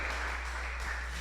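A church congregation applauds in a steady, continuous wash of clapping that holds at an even level for a brief moment, with no speech on top.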